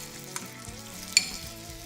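Gnocchi frying in a pan, a soft steady sizzle with a couple of sharp clicks as pieces are added, close and fairly quiet, with no voices.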